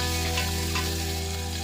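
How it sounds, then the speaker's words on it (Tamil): Mustard seeds, curry leaves, onion and green chili fry in a pan with a brief, steady, close sizzle and no voices. "கடுகு போட்டு கருவேப்பிலை, வெங்காயம், பச்சை மிளகாய் போட்டு நல்லா மிக்ஸ் பண்ணி விட்டுணும்."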